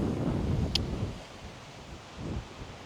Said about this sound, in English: so 25 mile per hour winds, 35 mile per hour gusts, and that just started maybe 20-30 minutes ago